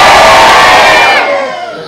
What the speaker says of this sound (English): We need a really good cheering audience.